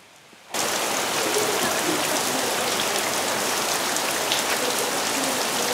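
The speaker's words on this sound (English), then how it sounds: "And it's raining harder." Heavy rain pours down steadily and loudly after a sudden start, a dense continuous hiss of drops striking surfaces outdoors near a slippery railing.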